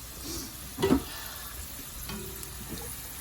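Wontons fry in hot oil with a low, even sizzle. There is a brief louder crackle near the start, then the sizzle continues quietly with no talking.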